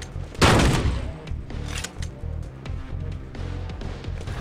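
A shotgun fires once in the virtual reality shooter Death Horizon: Reloaded, a loud close blast followed by a decaying boom, then quieter in-game rumble and clatter.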